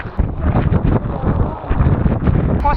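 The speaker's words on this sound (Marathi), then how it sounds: "वारा सुद्धा सुसाट्याचा आहे आणि पाऊस सुद्धा दमदार असाच आहे" Strong wind buffets the microphone on a rainy monsoon mountain trek at Ghangad fort in the Sahyadri hills, a loud continuous rumbling roar with gusty swells throughout.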